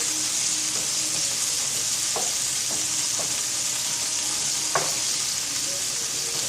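Steak, shrimp and bok choy sizzle together in a pan, giving a constant bright hiss close up, with a few soft knocks and scrapes from turning the food.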